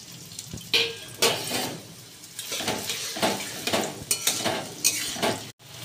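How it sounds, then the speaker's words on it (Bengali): Onions sizzling in white oil in a pan for chicken biryani while a metal utensil stirs and scrapes repeatedly, producing irregular clinks over the constant frying hiss. "পেঁয়াজটা লাল লাল করে ভাজা হয়ে গেছে"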